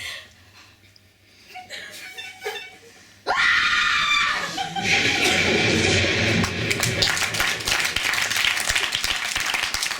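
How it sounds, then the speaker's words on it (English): A sudden loud, sustained scream breaks out after a few seconds of quieter sounds and voices in an old dark house, then carries on with shrieking and noisy commotion to the end. "It sounded like somebody was screaming."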